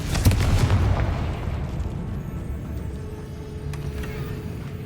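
A Confringo fire spell explosion in Hogwarts Legacy bursts with a sharp loud crack near the start, then a deep rumbling roar that slowly fades, followed by a faint later pop.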